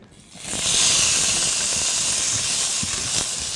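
Quail searing in a lightly oiled hot pan: a loud, close sizzle bursts in as the bird hits the fat and holds as a steady crackling hiss, with a few small pops.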